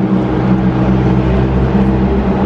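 A red Alfa Romeo 4C sports car engine rumbles steadily in Paris traffic, a loud low droning hum held close and continuous for a few seconds, with no voices over it.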